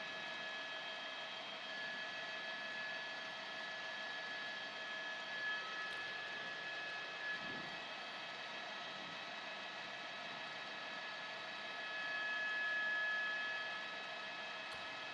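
A light aircraft engine drones steadily and close during a damage survey flight after Hurricane Milton over Sarasota, a constant even hum with no speech over it.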